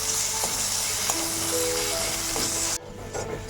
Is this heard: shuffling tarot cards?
no